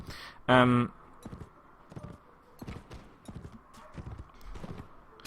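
Horse hooves in the Mount & Blade: Fire and Sword video game clip-clop in a steady, moderately loud gallop rhythm, with a sharp horse whinny-like burst near the start.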